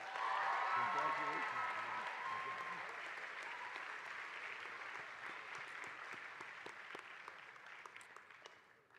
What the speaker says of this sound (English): One more round of applause for the Pineview class of 2025.